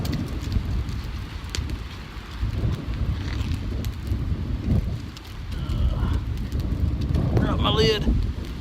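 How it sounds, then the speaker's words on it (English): Gusty wind buffets the microphone outdoors at a campfire where coffee is being made, a steady low roar through the whole stretch with a few brief clinks and faint higher sounds near the end. "This wind, I'm really nervous about it."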